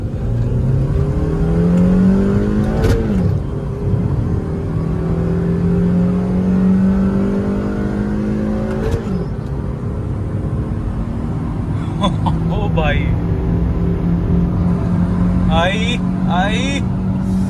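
A stage 2 Mercedes and a Honda Civic accelerate hard in a drag race, engines droning loud and near with rising revs and abrupt gear-shift breaks, while someone talks over the engine noise.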